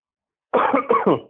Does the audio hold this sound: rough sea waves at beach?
no